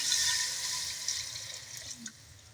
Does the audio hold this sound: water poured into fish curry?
yes